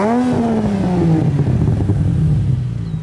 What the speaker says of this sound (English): One is the exhaust note. This sounds shockingly good for a car from this era.